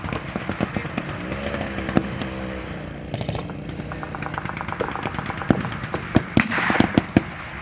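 Blank gunfire during a World War II re-enactment battle in an open field, sharp irregular cracks at middle distance over a rumbling vehicle engine, growing denser toward the end.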